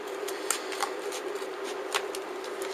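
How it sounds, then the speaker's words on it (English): Scissors or a blade cutting through cardboard on an envelope stack craft, producing a steady, close, scratchy rasp with a few sharper snips, no talking. "I'm just going to cut this around here underneath this piece"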